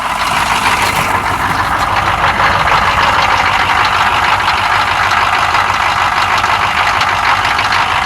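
A 6.2 diesel engine runs steadily after being cranked, a loud, continuous idle with a rough rattling clatter that holds through the whole stretch.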